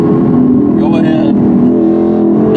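A Dodge Charger speeds past on the road, its engine swelling briefly over the steady, close drone of a 2020 Chevy Camaro RS 3LT heard from inside the cabin, with no talk.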